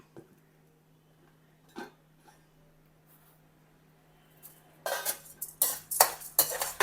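Dry spices and lentils roasting in a pan for bisibelebath, stirred with a utensil: a mostly quiet stretch with a couple of faint knocks, then a burst of close scraping and clattering strokes in the final two seconds.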